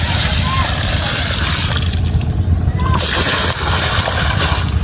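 Freshly caught local fish being washed together in water at a drained village pond. Loud, continuous splashing and sloshing sounds up close.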